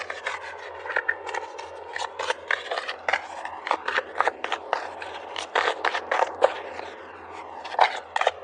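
Oracle cards being pulled and shuffled from a romance angels deck, a run of soft papery rubs and scrapes with short card snaps, close and fairly quiet with no talking.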